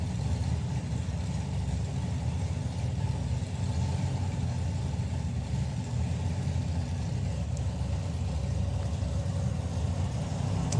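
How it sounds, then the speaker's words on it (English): A supercharged drag racing car at a drag strip event runs its engine steadily at a distance, a continuous low rumble with no talk over it. "Glyn Bourban running in Nostalgia Superstock will not be up against anything nearly as quick as the car in the other lane, or as loud for that matter."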